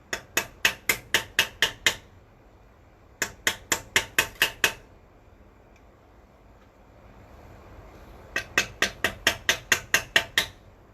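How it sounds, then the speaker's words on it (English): Sharp hammer whacks land in three quick bursts of about seven to eight even blows each, loud and close, fixing a ridge on a build. Short quiet gaps separate the bursts. "You'll hear some whacking."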